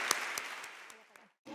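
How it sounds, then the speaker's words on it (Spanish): A crowd applauding, a dense wash of clapping with a few sharper claps standing out, fading toward the end before a brief voice. "Un aplauso"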